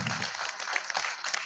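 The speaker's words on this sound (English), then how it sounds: "Let's give them one more round of applause." Brief burst of audience clapping at a veterans' recognition event, a steady crowd patter of moderate loudness with a faint voice underneath.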